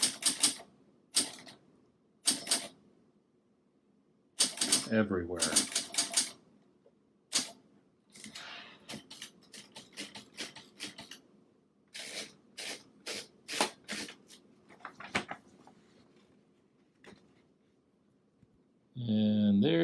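Someone types on a 1963 Facit TP1 portable typewriter, producing close, crisp clusters of key strikes separated by pauses, then a heavier mechanical clunk at the end; a voice briefly speaks.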